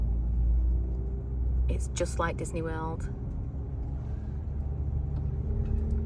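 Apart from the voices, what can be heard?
car engine rumble during driving lesson in car park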